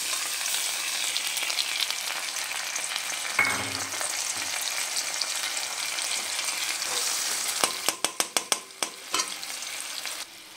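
Ginger paste frying in a pan, a continuous dense sizzle close up, a dull knock a few seconds in, then a quick run of sharp metallic taps and scrapes toward the end.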